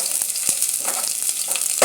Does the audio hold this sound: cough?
no